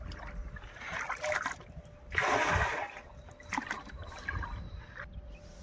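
Water splashes and trickles in a tank as fertilizer is mixed in by hand on a farm, a close, uneven sloshing with a louder surge midway.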